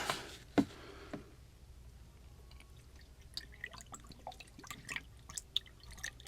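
Water trickles and drips down an air conditioner's condensate drain line, with scattered small splashes and gurgles over a quiet background and a couple of sharper knocks early on.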